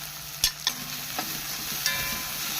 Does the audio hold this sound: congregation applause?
no